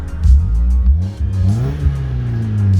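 Mazda Miata engine with a loud exhaust leak, revving up and down close by in a few rough, blatting surges with a rising pitch sweep, no voices.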